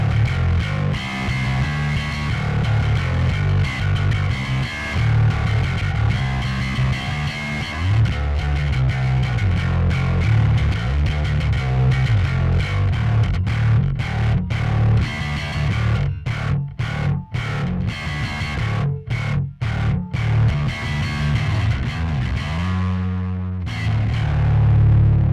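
Heavily fuzzed electric guitar plays loud and sustained, with thick distortion, then choppy stabs near the end before a ringing final chord.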